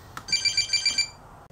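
A phone rings for a two-step verification sign-in call on a Samsung Chromebook, giving a quick run of about six evenly spaced electronic trill pulses, fairly close and clear, with no talking.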